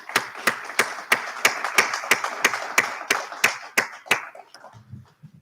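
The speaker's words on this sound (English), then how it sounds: "Can we have one more round of applause?" A crowd at a college convocation gives a round of applause, with a sharp, regular clap standing out over the scattered clapping of many hands before it fades out after about four seconds.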